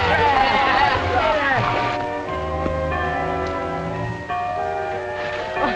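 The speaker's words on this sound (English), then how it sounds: "there's the first bell. You guys better get to school." A school bell rings with sustained metallic harmonic tones in an old 1940 film soundtrack, clanging on and then returning after a brief dip, heard over a busy mix of voices and film audio.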